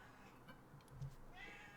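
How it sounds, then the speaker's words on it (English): A pet cat meows faintly in the background of a quiet room, a few soft drawn-out cries with no talk. "So my cat is going ape shit in the background."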